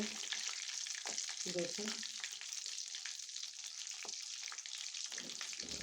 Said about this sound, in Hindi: ये हम इन्हें बिल्कुल हल्की आंच पर पकाएंगे